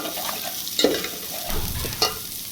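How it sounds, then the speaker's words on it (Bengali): Spices stirred and fried in a pan with raw onion scattered in, giving a steady sizzle with a few scraping stirs and occasional clinks, no talk. "কিছুক্ষণ একটু নেড়ে চেড়ে মশলাটা একটু কষিয়ে তারপর আমি কাঁচা পেঁয়াজটা ছড়িয়ে দিলাম"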